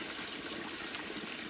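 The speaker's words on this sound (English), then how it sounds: "Found a little waterfall." A small waterfall on the Appalachian Trail gives a continuous, even rush of falling water, steady and fairly soft with no voices.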